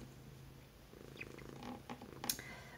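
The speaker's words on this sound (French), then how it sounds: "Il y a un chat qui s'est installé sur moi." A cat lying on a person purrs softly and close, a low rhythmic rumble with a few faint rustles and small sounds toward the end.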